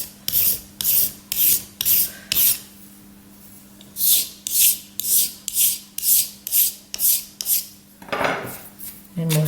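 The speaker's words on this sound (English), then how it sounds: "I need to do some more filing" Rhythmic rasping strokes of a file on a crushed stone jewelry inlay, about a dozen even back-and-forth passes with short pauses, close and fairly loud over a low steady hum.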